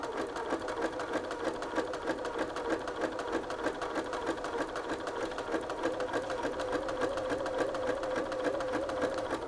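A sewing machine stitches a sleeve seam as fabric is gently guided through, producing a fast, rhythmic, close mechanical chatter that runs without a break and swells slightly toward the end.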